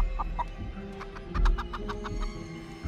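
A giant chicken clucks in a video game, a series of short, close clucks that speed up into a quick run, heard over a low, steady background of game music.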